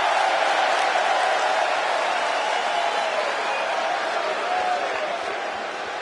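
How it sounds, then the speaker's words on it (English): A large arena crowd in the WWE 2K24 wrestling video game roars in a sustained, dense wall of cheering that holds steady throughout and fades slightly at the end. "And just listen to that crowd."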